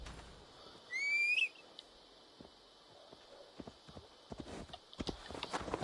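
Horse hooves clip-clop at a tired, slowing walk in the Assassin's Creed Valhalla video game during the Siege of Paris, steady and moderately near, after a short sharp whistle, with the footfalls growing louder toward the end.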